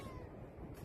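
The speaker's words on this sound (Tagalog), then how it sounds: "Magaling pa yung pusa. Magaling bumati." A short cat meow rings out close by over a steady background noise, a single brief call, outdoors near Kuwait Towers.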